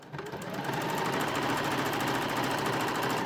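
A sewing machine stitches across a zipper on a bunny, a steady dense mechanical whir that holds close and loud for a few seconds.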